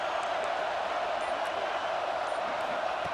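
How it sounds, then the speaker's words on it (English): A football stadium crowd in a video game produces a dense, steady roar of many voices, constant and fairly loud with no break across the whole stretch. "It's early, but this crowd is fired up. Listen to this noise here."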